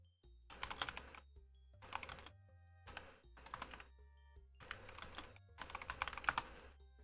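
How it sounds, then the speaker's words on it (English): Someone types on a computer keyboard in quick bursts of clattering keystrokes, several short runs separated by brief pauses, close and fairly quiet over a low steady hum. "what are you typing up?"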